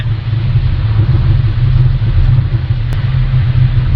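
An automatic car cruising on a highway at about 95 km/h, a steady low engine and road rumble heard from inside the cabin with no talk.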